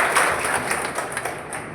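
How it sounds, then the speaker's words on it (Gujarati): Sustained applause from an audience at an RCM business meeting, a steady crowd of clapping hands filling the room at moderate loudness, with no pause or voice breaking through. "જોરદાર તાળી સાથે."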